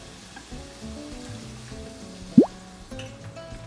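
Soy sauce poured into a hot pan of beef for adobo sa gata, bursting into a sharp loud sizzle over a steady background of frying, with no one speaking.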